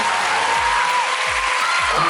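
Applause from an audience at a Thai film cast thank-you event, a steady wash of clapping over a couple of seconds with a low rumble underneath.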